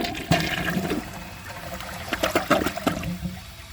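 A modern 2022 Mainstays high-efficiency toilet flushes a washcloth down, a close, loud rush of swirling water and gurgling drain that surges and then trails off into trickling refill, with no voices.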